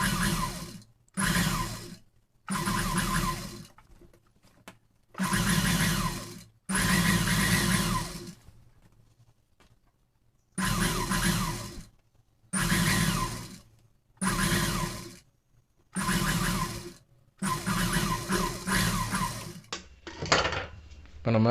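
Nearby, a sewing machine stitches the lining along a round V-neck blouse neckline in about ten short, loud motor bursts separated by brief silences, with no talking heard.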